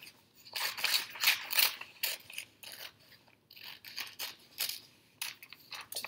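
Scissors cut out a picture from paper in a run of close, crisp snips and rustles, bursts of blade strokes separated by short pauses, with no voice present.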